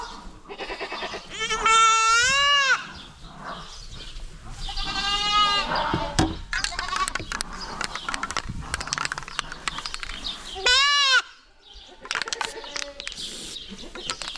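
A group of goats on a South Dakota farm, some sick and wheezy, bleat loudly in long wavering calls that come in three clear bursts over a continuous busy backdrop of herd noise and faint voices.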